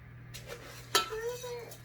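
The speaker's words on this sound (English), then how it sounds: "This is very gentle stirring." Suet for birds being stirred gently in a pot, with soft scraping and one sharper clink of a utensil against the side, with faint voices nearby.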